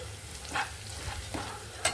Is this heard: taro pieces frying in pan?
yes